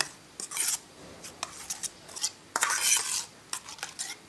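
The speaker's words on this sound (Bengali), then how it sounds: "1 চামচ গুঁড়ো দুধ দিয়ে আমি ভালো করে মিশিয়ে নেব" A spoon stirs milk cream (malai) mixed with a spoonful of milk powder in a bowl, giving close, irregular clinks and scrapes in short bursts with quiet gaps between them.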